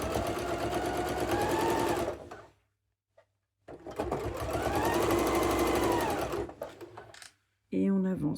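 A sewing machine stitches a fabric card holder with two long whirring runs, first forward and then in reverse, separated by a short pause and followed by a brief final burst. No one speaks.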